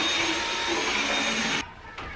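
Vacuum cleaner running indoors during a home makeover, a steady loud close whirr that cuts off abruptly after about a second and a half, leaving quiet room tone.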